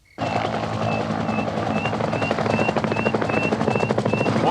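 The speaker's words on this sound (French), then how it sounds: "On va réquisitionner l'hélico de François." Helicopter in an action film starting abruptly and holding a loud, rapid rotor chop with a whining turbine tone, close and steady throughout with no talking.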